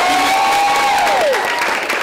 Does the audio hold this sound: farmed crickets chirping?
no